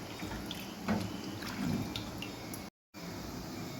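Chili powder being stirred and dissolved by hand in water for hotel-style idli sambar, giving soft sloshing and dripping liquid sounds at close range, with a brief silent gap near the end.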